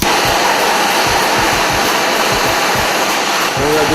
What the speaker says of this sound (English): I like to use a little heat for propane, just to expand the metal enough to make it easy for me to tap it out